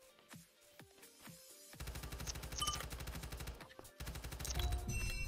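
Assault rifle gunfire in the voxiom.io browser shooter: after a few sparse early shots, sustained rapid automatic bursts take over, loud and close, with brief pauses between strings of fire.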